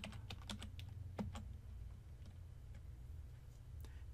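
Quiet, rapid keystrokes on a computer keyboard, a burst of clicks early on, then sparser taps over a low steady background hum.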